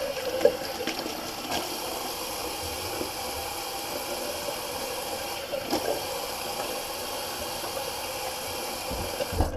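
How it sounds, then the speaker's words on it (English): Steady cold running water from a tap hisses continuously while a face is rinsed, with a few faint splashes and knocks mixed in. "Just gonna rinse off real quick with some cold water."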